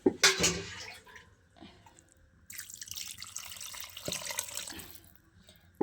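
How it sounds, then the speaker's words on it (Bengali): Water poured into a pan of fish curry with cauliflower, splashing and trickling in uneven bursts, fairly faint and close, with short pauses. "তো আমি একটু জল দিব যাতে মাছগুলো ভালোভাবে সিদ্ধ হয়ে যায়।"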